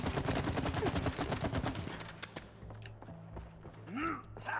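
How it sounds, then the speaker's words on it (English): Cody fires at targets in the It Takes Two video game: a rapid, steady volley of loud shots for about two seconds, then the firing stops and quieter mechanical creaks and clicks follow. "Cody, shooting targets."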